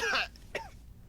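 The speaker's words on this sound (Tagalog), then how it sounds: "Inuubo lang ako." A short, harsh throat clearing bursts out loud and close, followed by a smaller cough-like catch and then quiet, with no other talking.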